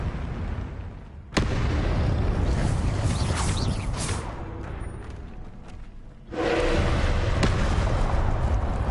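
Confringo explosion spell blasting in a Hogwarts wizard video game: two loud booming bursts, one sudden at the start and another a few seconds later, each followed by sustained rumbling noise.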